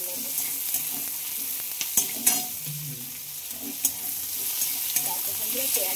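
Tomato and onion frying gently with salt in a pan over a lowered gas flame: a continuous soft sizzle with scattered clicks and scrapes from stirring.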